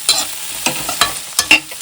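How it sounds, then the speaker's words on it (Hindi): Capsicum frying with spices in a pan in a village kitchen, stirred with a few quick, separate scraping strokes over a soft sizzle, close and alone. "अब साथ ही हम लोग इसमें डाल देंगे शिमला मिर्च। इसको अच्छे से फ्राई कर लेते हैं।"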